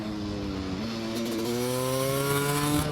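A Husqvarna WR250 supermoto engine revs up, its pitch climbing steadily as the throttle opens, loud and close with no voices.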